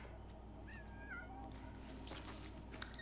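Cat meowing in the video game Death Stranding 2, a few short faint mews over a low steady game ambience and background hum.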